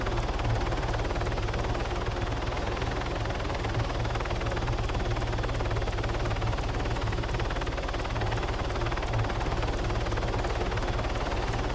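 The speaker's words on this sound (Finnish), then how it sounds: "Tos mun edessäkin lentää nyt 2 kopteria." Helicopters flying in a video game, a loud continuous rotor drone with rapid chopping pulses that holds steady throughout.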